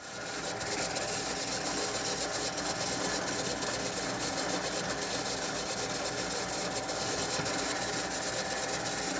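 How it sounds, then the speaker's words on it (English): A drill press bores holes through a knife handle scale, giving a continuous close grinding, rasping whir with a steady motor drone that holds for about nine seconds without talking. "I'm going to go to the drill press, drill out my holes on both sides"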